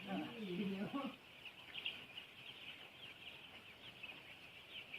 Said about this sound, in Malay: Ini di kandang ayam